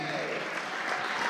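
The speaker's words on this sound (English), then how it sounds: "you should give yourself a big hand clap of all the wonderful people that are here today" An audience at an interfaith conference claps in a brief, dense burst of applause, with a voice talking over it.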